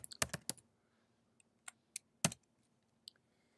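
Typing a web address on a computer keyboard, a quick cluster of crisp clicks followed by sparse, separated keystrokes, quiet and close with no talking.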